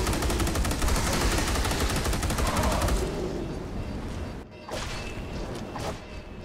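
Rapid automatic gunfire in a co-op sci-fi shooter, sustained bursts aimed at a Carnifex alien creature, loud and dense for several seconds before thinning into scattered shots.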